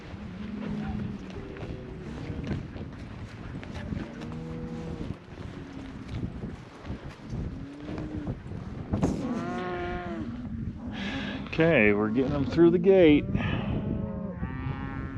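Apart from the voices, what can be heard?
cattle mooing in a pasture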